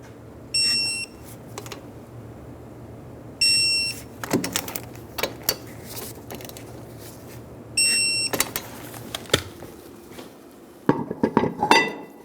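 Brake caliper bolts on a 2010-2014 Subaru Outback are fitted and torqued. Scattered metallic clinks and tool knocks come in short bursts, with repeated high electronic beeps between them and no talking.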